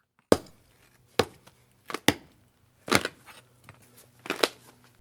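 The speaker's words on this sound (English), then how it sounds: "was out cutting wood" A lumberjack chops wood with an axe: about six sharp, separate blows land at irregular intervals, fairly close, with faint crackle between strikes and no talk.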